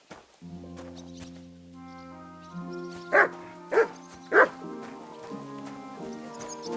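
A dog barks three times in Kingdom Come: Deliverance II, short loud woofs spaced evenly over a medieval musical score.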